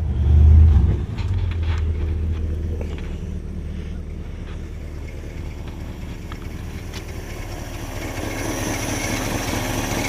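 A 1953 Chrysler Windsor Newport engine with an exhaust leak at the manifold idles steadily with a low, continuous rumble and some wind buffeting, after a brief louder burst at the start; no talking.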